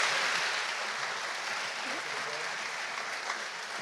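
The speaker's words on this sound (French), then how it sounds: "Merci d'applaudir une seconde fois Omar Chefaoui." Steady crowd applause at a university graduation ceremony, a dense wash of clapping hands that holds for a few seconds, with no voices standing out.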